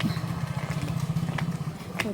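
A motorcycle engine rumbles steadily nearby at Edava railway station, a low throbbing drone with a few faint clicks over it.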